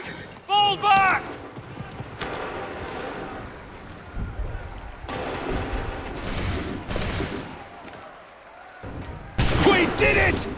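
Ragged musket volleys and scattered gunshots in an Assassin's Creed 3 battle, several loud bursts of firing separated by quieter stretches, with shouting voices mixed in.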